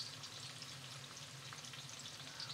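Onions frying in a pan for vegan koshari give off a steady, dense sizzle and crackle that holds evenly throughout, close and fairly quiet, with no voices.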